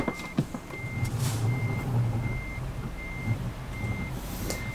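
Truck in the Euro Truck Simulator game reversing while parking, its backup alarm sounding a regular series of evenly spaced beeps over a low, rumbling engine idle.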